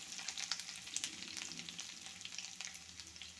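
Ginger and garlic sizzle in hot oil after mustard seeds have popped, a dense, steady crackling fry with small pops and spits throughout, close and fairly quiet, with no voices.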